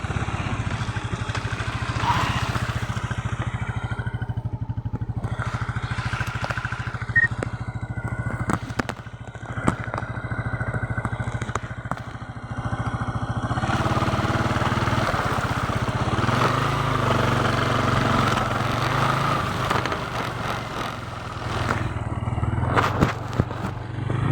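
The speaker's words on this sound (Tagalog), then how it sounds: "Rough road talaga mga ka-Inverness. Pati motor ko hirap na hirap." A motorcycle engine drones steadily over a bumpy road, with rattles, clatter and scraping jolts, and occasional voices in the background.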